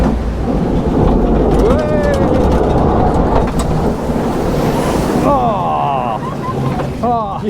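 A log flume boat splashes down the final drop of the Diamond River water ride at Legendia, a loud continuous roaring rush of water with screams and whoops from riders over it.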